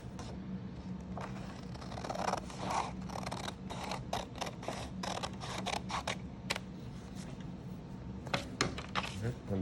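Scissors snip through paper in short, irregular crisp cuts, close to the microphone, with quiet room tone and faint rustling between snips.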